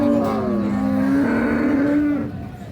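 A Holstein Friesian cow moos once, long and loud, close by at a cattle market, the call wavering in pitch before fading into background bustle.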